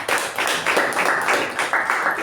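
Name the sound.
round of applause at Toastmasters meeting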